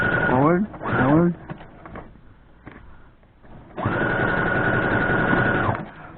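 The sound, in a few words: sewing machine stitching a strip on an advent calendar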